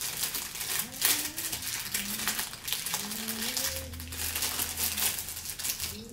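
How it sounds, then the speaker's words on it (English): A plastic machine bag crinkles and rustles as it is pulled over a tattoo machine, giving a steady close crackle of handled plastic with no talking. "Go ahead and put on your machine bag."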